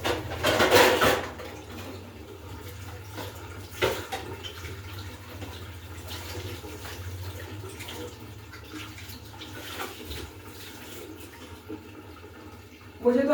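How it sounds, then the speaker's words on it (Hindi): Running tap water splashes steadily while dishes are washed at a kitchen sink, a continuous rushing flow with occasional clatter, as a person talks over it. "तो चले बर्तन धो लें"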